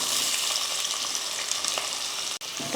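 Onions sautéing in hot oil in a pan while making a coconut rice lunch dish, giving a steady, bright, close sizzle with a few faint stirring clicks and a brief dropout near the end.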